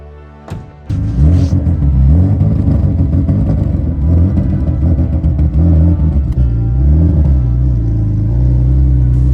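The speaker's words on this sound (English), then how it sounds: "Your car is making funny noises." A 1994 BMW E36 330i drift car engine rumbles loudly and revs continuously close by, starting after a brief thump and holding a steady, wavering roar with pitch swings throughout.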